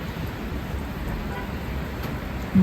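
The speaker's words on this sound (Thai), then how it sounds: "ดูสิบรรยากาศนะ เย็นสบายค่ะ เย็นสบายเลยบรรยากาศฝนตก" Steady rain falls outdoors in cool weather, a continuous even hiss of drops on surfaces filling the whole stretch at moderate level, with no voices over it.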